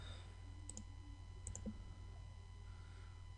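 A few faint computer mouse clicks come in two quick pairs while lines are drawn in CATIA software, isolated small ticks over a steady low electrical hum in a quiet room.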